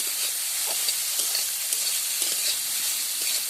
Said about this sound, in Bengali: এবারে কফিটা দিয়ে ভালো করে নাড়াচাড়া করে নেবো